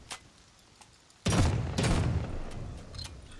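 In the video game Rust, a faint click, then a sudden loud burst of gunfire followed by a second volley, with scattered shots trailing off.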